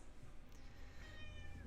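A domestic cat gives a soft, drawn-out meow, quiet and close, over a low steady background hum.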